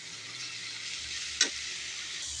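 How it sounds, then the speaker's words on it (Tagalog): Bitter melon sautéing with duck egg and pork fat in a pan gives a steady soft sizzle, with one sharp clink of a utensil midway. "Itlog ng itis lagay sa margoso nga ginisa."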